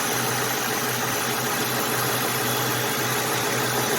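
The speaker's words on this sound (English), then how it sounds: "Here's the engine running this morning." A 2003 Ford Mustang GT V8 engine with about 109,000 miles idling on a morning start, a steady low rumble with an even, continuous throb, close and constant with no talking.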